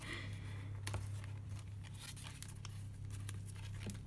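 Quiet snipping and crinkling of scissors cutting paper, a few soft clicks over a low steady hum, close by.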